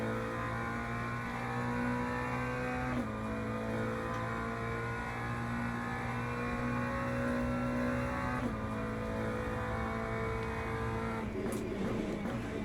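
A GT3 race car lapping Monza in the Le Mans Ultimate sim racing game drones loud and steady throughout. Its engine note dips briefly at two gear shifts, with a rising rev near the end.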